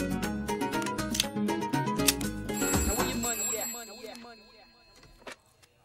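A telephone rings during a scene in a Bollywood comedy film. Repeated ringing tones blend with a busy musical backdrop, then fade and thin out toward the end.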